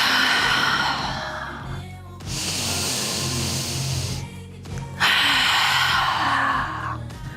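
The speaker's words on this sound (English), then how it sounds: "Breathe for 2 more breaths." Deep, slow breaths during a yoga pose in a power flow class: two long airy inhales and exhales, close and breathy, over a low steady background hum.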